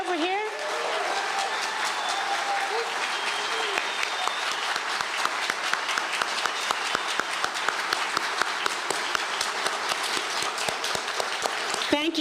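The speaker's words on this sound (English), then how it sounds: "I want to applaud you." An audience at Knoxville's State of the City address gives sustained applause for the city's firefighters, a dense wash of many hands clapping that fills the room loudly from start to finish.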